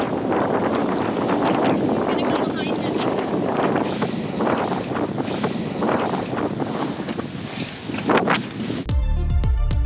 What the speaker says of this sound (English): we are leaving in some crappy weather. It is like squalls out of everywhere.